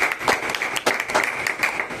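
Seminar audience applauding together at a Vestige business opportunity event, a dense, steady burst of clapping with sharp hand-strike transients that lasts the whole two seconds and has no talk over it.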